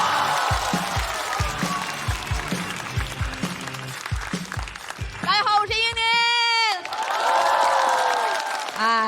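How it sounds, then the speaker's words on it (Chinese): A studio audience at a stand-up comedy contest show breaks into loud, continuous applause and cheering as a comedian is welcomed to the stage, while a host speaks over the clapping. "掌声有请英宁。"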